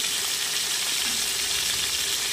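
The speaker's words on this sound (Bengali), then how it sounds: "কড়াতে তেল গরম করে নিয়েছি, দিয়ে দিচ্ছি কেটে রাখা পটলগুলো।" Sliced pointed gourd (potol) fries in hot oil in a kadai, giving a loud, even, continuous sizzle throughout.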